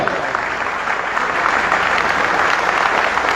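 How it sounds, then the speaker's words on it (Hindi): Dense, steady applause from a large audience at a political campaign rally in Panipat, a continuous wash of clapping that holds at even loudness for the whole stretch. "ताली रुकनी नहीं चाहिए थोड़ी देर"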